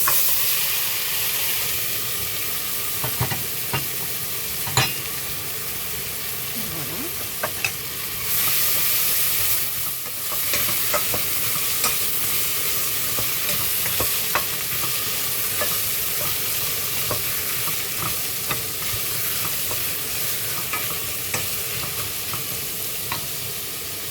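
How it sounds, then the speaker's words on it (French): Apples tipped into melted fat in a pan for apple strudel sizzle in a steady broadband hiss for the whole stretch, with scattered clicks and scrapes as they are moved about, and no voices. "Notre matière grasse est fondue. Donc à présent, nous allons y ajouter nos pommes"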